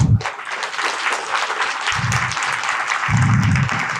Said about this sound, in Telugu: చప్పట్లు వద్దయ్యా ప్లీజ్.